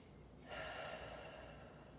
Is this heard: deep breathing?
yes